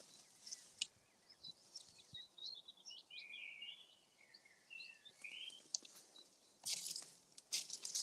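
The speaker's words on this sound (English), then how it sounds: "And I can hear baby crows this way." Young jackdaws call from nests in a row of crow and pigeon nesting sites, giving repeated high, thin, chattering cries at moderate distance, with a few louder bursts near the end.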